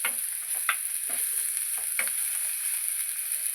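Moong dal frying in a pan with turmeric, ginger-garlic paste and salt, with a soft steady sizzle and a few scraping stirs of a spoon against the pan.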